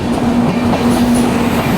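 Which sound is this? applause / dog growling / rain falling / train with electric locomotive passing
train with electric locomotive passing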